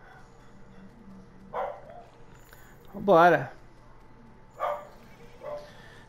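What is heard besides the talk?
neighbour's dog barking repeatedly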